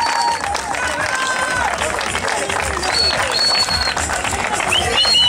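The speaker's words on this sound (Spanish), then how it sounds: "Ahí está, el aplauso merecido." A crowd applauds the finishers on the podium at a marathon awards ceremony. The clapping and cheering are steady and mid-distance, heard under a loud announcer's voice and general crowd chatter.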